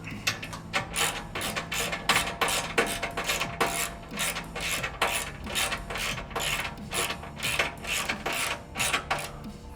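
Ratcheting wrench clicks in rapid bursts while bolts on a skid plate for a primitive racing engine are tightened, close and fairly loud with short pauses between runs of clicks.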